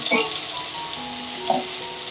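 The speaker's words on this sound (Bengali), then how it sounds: "এখানে বেগুন ভাজা হচ্ছে বন্ধুরা।" Eggplant slices fry in a pan, a close, even sizzle that holds steady throughout with a couple of brief crackling pops.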